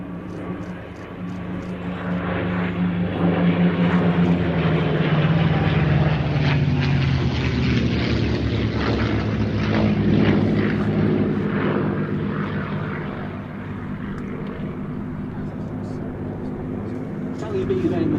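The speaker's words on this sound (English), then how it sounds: "Here come the fighters once more, P-47 and 2 Mustangs." A P-47 Thunderbolt and two Mustang fighter planes fly past at an air display at Odiham, their piston engines swelling into a loud droning roar, then fading as a commentator talks over them.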